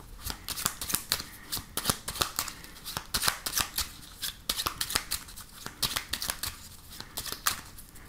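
A deck of oracle cards shuffled by hand, giving a rapid, close run of crisp riffling slaps and flutters that repeats in quick bursts without any talk.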